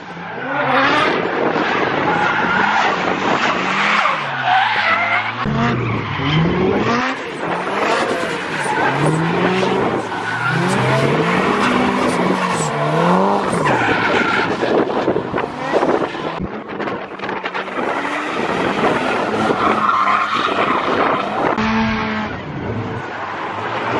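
Loud, continuous roar of cars drifting around the track at Driftland UK nearby, engines rising and falling in pitch with tire squeal and wind buffeting throughout.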